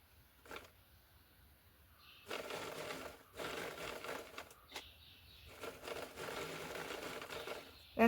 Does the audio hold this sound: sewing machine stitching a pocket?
yes